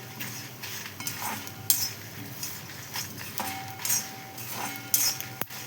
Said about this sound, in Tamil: கொஞ்சம் கோல்டன் ப்ரௌன் வர வரைக்கும் நம்ம இதை வறுத்துக்கலாம்.